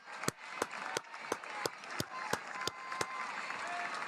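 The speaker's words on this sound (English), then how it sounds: "Everybody clap." Crowd clapping in unison at a WWE Monday Night Raw event as AJ Styles departs, sharp evenly spaced group claps about three per second over a continuous arena crowd roar.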